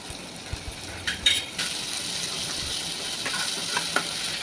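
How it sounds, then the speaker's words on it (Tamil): Chilli, onion and ginger garlic paste sauté in hot oil for kadalai curry, giving a steady bright sizzle broken by a few spoon scrapes and metallic clinks against the pan. "மிளகாய், வெங்காயம் சேர்த்துக்கோங்க. இது கூட இஞ்சி பூண்டு பேஸ்ட் சேர்த்து வதக்கிக்கோங்க."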